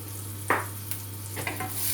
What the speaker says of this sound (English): Now you can hear that butter just sizzling.